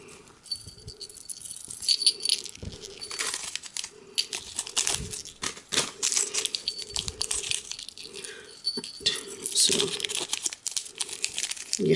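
A small packet being handled, giving irregular bursts of crinkling and rustling that are close and fairly loud, with quieter pauses between handling.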